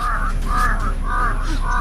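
A crow caws four times in an even, steady rhythm, each harsh call loud and close over a constant low background hum.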